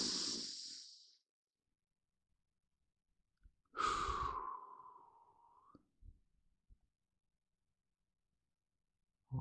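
Slow, deep breaths during a sophrology relaxation exercise: a long exhaled sigh, a pause, then a long drawn breath that trails off, with soft breath sounds after and quiet gaps between.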